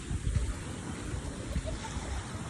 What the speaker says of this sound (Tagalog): Lupit ng dagat dito.